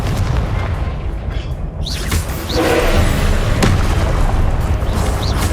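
A heavy, continuous booming roar marks the Confringo spell blast in Hogwarts Legacy, loud and dense with rumbling low end and brief whooshing accents throughout.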